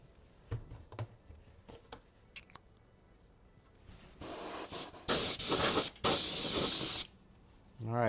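An aerosol can sprays opaque white paint onto a Kyosho Beetle RC car body in three sustained hissing bursts, preceded by faint clicks and handling noises.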